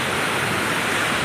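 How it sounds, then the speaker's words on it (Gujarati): Sea waves surge at Somnath beach in a loud, continuous, roaring wash of surf that stays steady throughout, with no talking. "મોજા કેવા ઉછળી રહ્યા છે સમુદ્રમાં"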